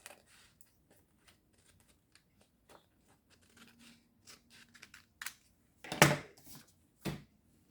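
Scissors snipping paper for making cash envelopes, a series of soft, close cuts and rustles that grow louder toward the end with a few sharper snips, no talking.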